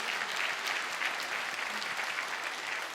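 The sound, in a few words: church congregation applause for children's choir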